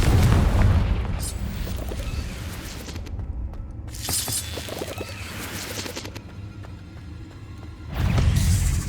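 In the Hogwarts Legacy game, Confringo fire spells go off as loud booming blasts with crackling, shattering debris. Several heavy bursts arrive in waves, with rumbling tails between them, close and dominant.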